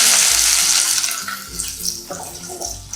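Small-cut onion fries in hot oil with cumin in a pot for idli sambar, making a loud, steady hiss and sizzle broken by a few low knocks, with no talking.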